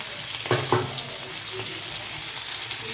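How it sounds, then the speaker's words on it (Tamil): Ayala mackerel fish frying in hot oil three at a time, a steady close sizzle with a couple of brief stirring or turning knocks near the start. "இந்த ஆயிலில் 3 மூணாக ஃப்ரை ஆகுது நல்லா ஹீட்டில்"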